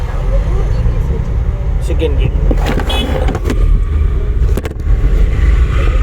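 Car accelerating in second gear during a driving lesson, a steady low engine drone from inside the cabin with small clicks and rattles of the controls.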